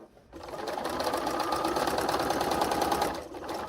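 A sewing machine runs steadily for about three seconds, stitching quilt pieces for a double wedding ring quilt, its rapid mechanical whir loud and close with brief quiet before and after.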